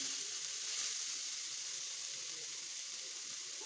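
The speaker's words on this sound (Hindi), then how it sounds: "कीमा बहुत अच्छी तरह से भुन चुका है और ये घी जो है ना इसने छोड़ दिया" Tawa keema, minced meat frying in ghee on a flat griddle, gives a steady, dense sizzle. The hiss is even and close, with no pauses and no voices.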